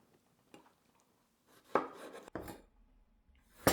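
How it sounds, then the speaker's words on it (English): A knife cuts ripe tomatoes on a board into small cubes, giving a few soft, close thuds and wet slicing scrapes spaced irregularly, with no talking. "So you're going to start cutting your tomatoes up"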